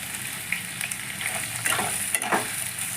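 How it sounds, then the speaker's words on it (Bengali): Chopped onions frying in hot oil over a high flame for chicken biryani, a steady close sizzle broken by a few sharper crackles and stirring scrapes. "এবার আমি পেঁয়াজটাকে হাই ফ্লেম দিয়ে ভেজে নেব"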